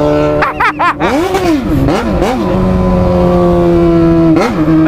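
A Yamaha XJ6 motorcycle with a straight pipe downshifts and revs hard at night, loud and close, with sharp throttle blips and rising and falling engine howls before settling into a sustained high rev.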